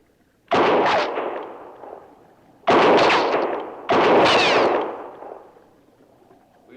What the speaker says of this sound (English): Maybe my shots will get a little closer to you from time to time.